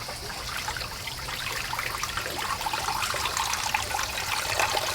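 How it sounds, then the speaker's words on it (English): Steady trickling and splashing of water poured into a plant pot and draining straight out the bottom, continuous and close, with no voices. "as fast as I pour the water in, it's literally just coming right out of the bottom of the pot"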